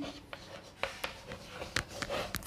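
A pen writes freehand on paper, practising an English letter sentence, with scratchy strokes and brief taps coming close and fairly quiet, alone without talk.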